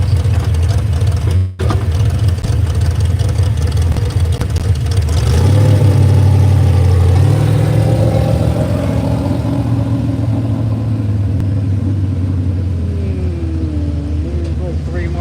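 A heavy 6,000-pound V8 farm stock pulling tractor rumbles loud and close, its engine swelling into a sustained roar as it bears down, with an announcer talking over the din.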